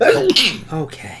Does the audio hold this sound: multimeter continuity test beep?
no